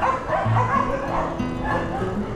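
A pack of dogs barks and yips together at close range in a dense, continuous chorus, with some higher whimpering cries mixed in.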